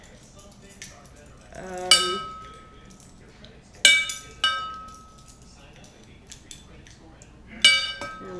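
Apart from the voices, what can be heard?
teaspoon of brown sugar being added, spoon clinking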